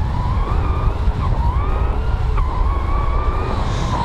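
A JLB J3 Speed RC car speeds up on a beach, its electric motor giving a loud, high, wavering whine that rises and falls over a rough, rumbling wash of wheel and ground noise.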